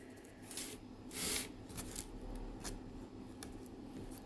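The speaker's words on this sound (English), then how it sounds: "I love when scissors don't cut." Several short crisp snips of scissors cutting yarn for a handmade crochet bracelet, close and quiet, spaced irregularly with soft rustling between them.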